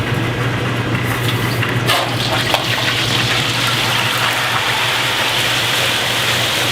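A whole turkey lowered into a pot of hot frying oil, a loud, steady rushing hiss of bubbling oil that stays dense and close throughout, with a low burner hum underneath.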